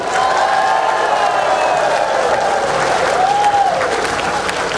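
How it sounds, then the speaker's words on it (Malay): A standing crowd at a volunteer corps gathering in Teluk Intan, Malaysia, gives loud, continuous applause mixed with cheering and whoops, a thick wash of sound throughout. "Mari kita berdiri beramai-ramai sambil memberikan tepukan bergemuruh kepada Jabatan Sukarelawan Rakyat Malaysia di atas kejayaan majlis pada ini"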